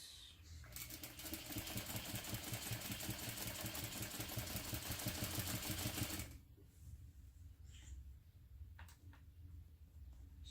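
A sewing machine stitches steadily with a rapid mechanical chatter for about six seconds, then stops, leaving faint room noise.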